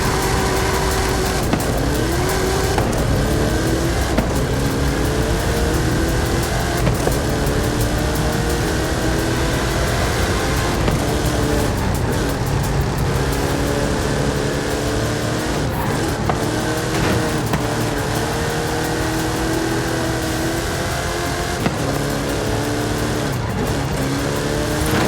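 A Hot Wheels Snake car drag race in the video game Forza Horizon 5, with loud engine revving that repeatedly climbs and drops through gear changes, plus tire noise, sustained and close with no talk.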